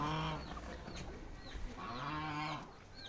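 A turkey hen indoors in a room gives repeated harmonic gobbling calls in bursts across about three seconds, fairly close and steady, with no talk over them.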